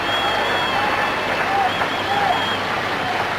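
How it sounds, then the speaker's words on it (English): A cricket crowd in a stadium breaks into scattered, building anticipatory clapping, a steady wash of applause and murmur carrying on through the stretch while a batsman closes in on a century. "And the anticipatory clapping starts."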